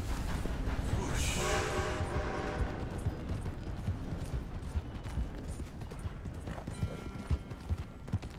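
A train rumbles past in a video game, a steady rolling clatter with rhythmic hoof-like clip-clops and a brief horn-like tone early on, heard at moderate distance with no talking.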